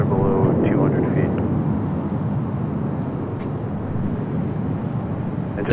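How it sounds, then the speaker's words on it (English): A Delta Boeing 737-800 arriving at LAX from Seattle roars past as a steady, loud low rumble of jet engines, with a voice speaking briefly at the start. "737 800 coming in from Seattle, flight 1530"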